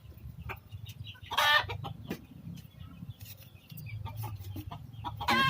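Rhode Island chickens clucking close by, with a few louder squawking bursts breaking through a run of low, throaty murmurs.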